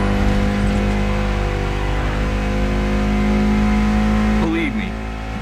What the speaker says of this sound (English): Mitsubishi gave us a nice inline 4-cylinder with already 280 horsepower